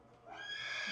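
A horse in its stall on a farm gives a brief nearby whinny. The call rises into a bright, wavering neigh that lasts under a second and is fairly clear.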